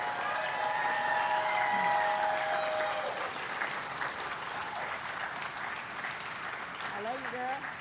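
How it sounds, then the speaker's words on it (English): A crowd at an outdoor mural dedication applauds the artist, sustained clapping that gradually thins, with cheers and a voice speaking over it. "So help me give her a round of applause."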